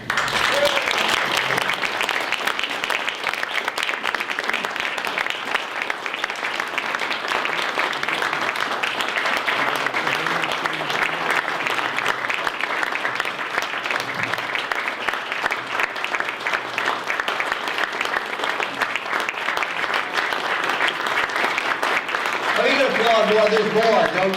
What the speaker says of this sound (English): It's a celebration to give Bill a cheer.